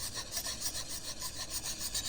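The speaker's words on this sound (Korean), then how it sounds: "그리고 불필요하게 튀어나온 부분은 줄을 이용해서 다듬어 줍니다." A hand file rasps steadily across a plastic back-scratcher handle built up with baking soda and glue, smoothing off the excess in quick, even back-and-forth strokes, close and continuous with no talk.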